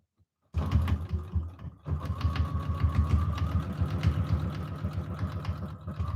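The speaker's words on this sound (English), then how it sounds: "So go ahead and sew all the way around the edge and catch all those corner points and everything in your stitching." A domestic sewing machine stitches steadily around the edge of a quilt, running as a continuous rapid mechanical chatter after a brief silent start and a short pause near two seconds.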